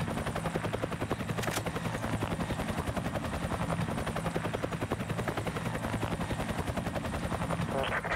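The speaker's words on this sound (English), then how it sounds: "Where the fuck is the helicopter coming from?" A video game helicopter whirs in a loud, steady, continuous rotor chop, close and droning throughout, with no gaps.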